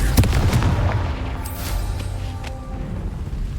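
Confringo fire spell exploding in Hogwarts Legacy, a burst of booming blasts and crackling impacts at the start, trailing into rumbling combat noise and game sounds, with no voices.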